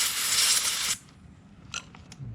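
Aerosol cleaner blasts in a single loud, sharp hiss for about a second into the carburetor of a Stihl MS 290 chainsaw with a carburetor problem, then cuts off, leaving only a few faint clicks nearby.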